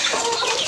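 Free-range village chickens cluck and chatter together while feeding, a dense, close cluster of overlapping bird calls in a brief burst.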